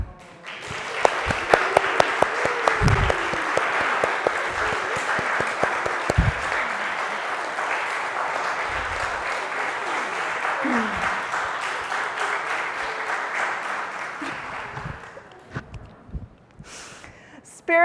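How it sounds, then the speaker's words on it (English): A congregation gives sustained applause welcoming Avery and Alston at a worship service, steady dense clapping that swells and holds for many seconds before tapering off, with a few faint voices and shuffles near the end. "our applause."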